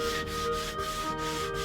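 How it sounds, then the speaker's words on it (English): Sandpaper rubs along a hazel longbow stave to remove rasp tool marks, making a continuous close scratchy sanding sound with regular back-and-forth strokes about every third of a second. "Now rasps leave deep tool marks in the wood, so I'm removing those with sandpaper."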